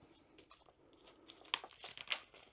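Cellophane wrapping being cut off a diamond art canvas, giving soft crinkling and tearing with a couple of sharper crisp snips near the end, close and quiet with no talk.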